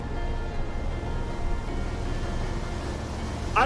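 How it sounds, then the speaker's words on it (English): Boat song from Outer Wilds: Echoes of the Eye, a sustained tonal drone with soft layered harmonics playing steadily and fairly loud, with a brief brighter flourish near the end. "But also just more boat song."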